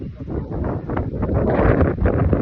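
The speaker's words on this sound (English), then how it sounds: "The wind decided I'm picking up, and cloud cover's coming over more." Strong wind in a park during a cold, windy outing, roaring steadily into the microphone with rustling gusts through moving trees, loud and continuous, growing slightly stronger toward the end.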